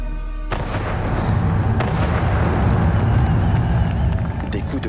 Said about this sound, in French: Des coups de canon, je pensais qu'ils utiliseraient des feux d'artifice.